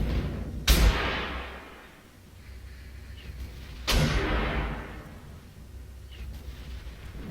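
Two heavy booming impacts about three seconds apart as Swingfire tier-4 missiles strike a Panzer 57 tank in Armored Warfare, each a loud blast that rolls and decays into rumbling ambience.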